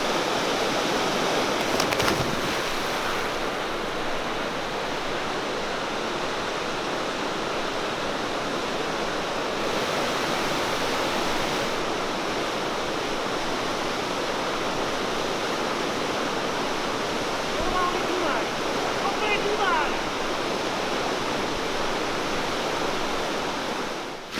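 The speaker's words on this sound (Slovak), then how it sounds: "celú noc nám vedľa stanov hučala táto perejka" A small river rapid with half-metre waves roars steadily next to a riverside campsite, a dense, continuous rushing wash of water close by with no talking.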